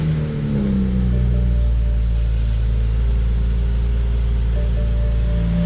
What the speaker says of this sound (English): I'm gonna start the car up real quick